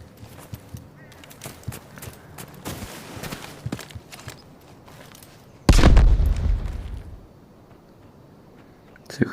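A heavy gun with strong recoil fires in a 3v3 video game mode, one loud deep boom with a rumbling tail standing out from quieter clattering game sounds and a few lighter earlier shots.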